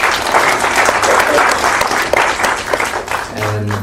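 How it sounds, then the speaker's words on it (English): Audience applause at a panel forum on creating markets, a dense, steady wash of clapping from a room of people that carries on throughout, with a voice starting to speak over it near the end. "please give a round of big applause for him again."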